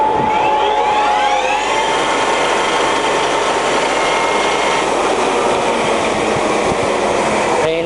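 Global GL6266A centre lathe spins its spindle up to a top speed of 1600. A loud, close whine rises in pitch over the first seconds, then holds as a steady mechanical drone with gear rattle and no speech.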